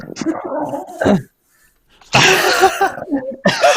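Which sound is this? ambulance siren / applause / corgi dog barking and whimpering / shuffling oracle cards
corgi dog barking and whimpering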